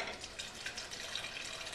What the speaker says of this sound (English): Clear water, 500 milliliters going into the box.